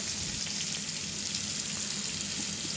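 Large potato pieces, cut in halves and coated with salt, turmeric and red chili powder, fry in hot oil with a steady, dense sizzle that crackles evenly throughout.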